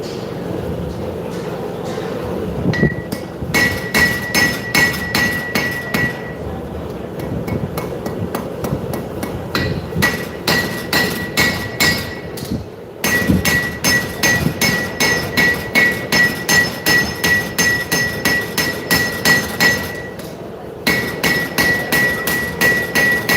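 Hammer blows ring out on Damascus steel being forged at a live knife show, a steady rhythm of sharp metallic strikes in quick bursts with short pauses, close and loud over a busy hall murmur.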